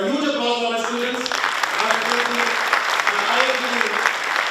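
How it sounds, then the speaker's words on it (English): Sustained audience applause for a group of students in a university hall, steady and fairly loud, with a voice speaking over the clapping throughout. "A huge applause for my students."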